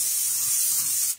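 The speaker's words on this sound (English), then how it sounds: "the bottom with some cooking spray." Cooking spray hisses in one steady, close burst for about a second as it coats the bottom of a baking dish, then cuts off abruptly.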